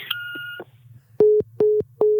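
A telephone line answers with a short series of steady tonal beeps, three evenly spaced pulses near and clear after a brief electronic warble, over a low constant hum.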